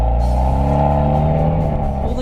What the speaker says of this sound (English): the car feels peppy, and the engine has a little bit of bark to go along with the car's visual bite